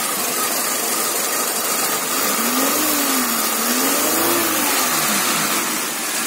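A repaired Peugeot 206 1.1 petrol engine runs steadily at idle up close, a continuous mechanical hum with a light ticking clatter and a slight rise and fall in pitch, no voices.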